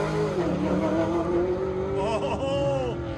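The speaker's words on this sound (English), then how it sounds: "There you go, Camaro versus a Corvette in a Duel in Del Mar CPP." A Camaro and a Corvette at an autocross shootout in Del Mar, engines revving and shifting in rising and falling pitch as the cars race, loud and near with a faint voice underneath.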